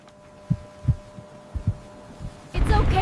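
Slow, muffled heartbeat thumps as a sound effect, several soft double beats spaced irregularly, then a dense loud rumble of noise takes over near the end.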